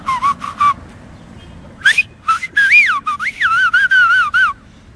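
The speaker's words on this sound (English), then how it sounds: "it's going to be whistling with the upper lip" A clear, fairly loud whistled melody made without fingers, using the upper lip, sliding between notes in short bursts and longer runs, with soft background noise.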